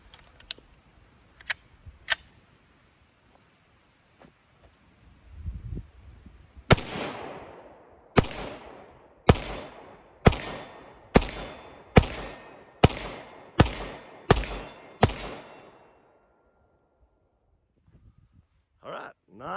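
An FN Five-Seven pistol fires about ten evenly spaced shots, each a sharp loud crack followed by a ringing echo from a steel target at 40 yards, outdoors, after a few earlier clicks and light handling noises.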